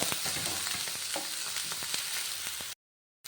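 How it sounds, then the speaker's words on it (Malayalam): Onions and green chillies sauté in a pan with a close, even sizzle broken by light stirring clicks. The sound cuts off abruptly into silence near the end. "നമ്മുടെ ഉള്ളിയും നമ്മുടെ ഉള്ളികളും അതുപോലെ പച്ചമുളകും എല്ലാം കൂടെ അങ്ങ് ഇട്ട് നല്ലോണം ഒന്ന് വഴറ്റിയെടുക്കാം"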